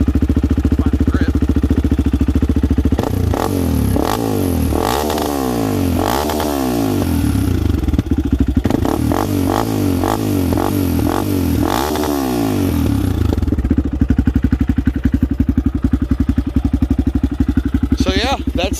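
A Honda 400EX ATV engine runs close by, loud and steady, with several sharp revs rising and falling in bursts over a continuous idle.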